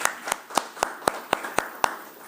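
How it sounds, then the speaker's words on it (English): Slow, evenly spaced claps at an education committee meeting, about nine sharp distinct hits in a steady rhythm, sounding like one or a few people clapping in a quiet room. "And I think you all should give her a round of applause."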